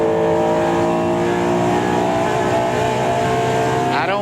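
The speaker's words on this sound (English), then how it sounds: "Listen to the motor just for a second." A NASCAR Winston Cup stock car engine at Rockingham runs loud and steady on track, a smooth sustained droning roar with a slight rise near the end.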